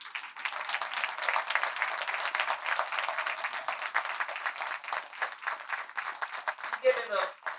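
An audience claps and applauds steadily for a poet at a live performance, a dense, sustained wash of many hands at close to moderate distance.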